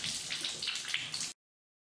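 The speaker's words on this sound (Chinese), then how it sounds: "不管水龙头怎么转，水流会保持一直不变，一直在流" Water pours nonstop from a faulty MOEN shower faucet that won't shut off, a close, even hiss of flowing water lasting just over a second before stopping abruptly.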